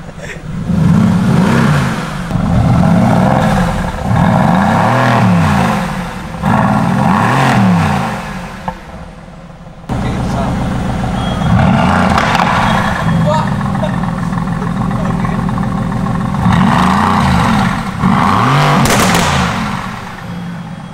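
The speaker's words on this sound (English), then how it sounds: "Can we rev now?" A car engine revs repeatedly, rising and falling in several rhythmic surges, then holds a loud sustained roar, heard close and under intermittent talking.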